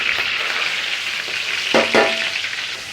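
Starch sizzles in hot ghee in a large wok, giving a steady bright frying hiss with a couple of brief louder crackling bursts near the end and no talk.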